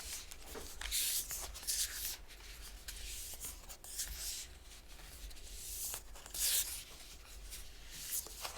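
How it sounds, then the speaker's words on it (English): Sturdy oracle cards riffle and rub in repeated short bursts, a crisp papery shuffling that comes and goes in close, fairly quiet flurries. "So I'm just going to shuffle the deck a little bit."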